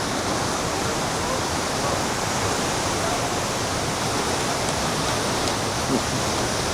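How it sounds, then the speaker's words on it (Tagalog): A waterfall roars as a steady, even wash of broadband noise throughout, constant and unbroken with no distinct events. "Ganda ng falls."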